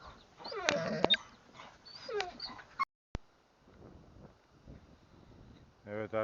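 Puppies on a farm whimper and yelp in short, high-pitched bursts, close by, followed by quieter shuffling and a few more whines at the end.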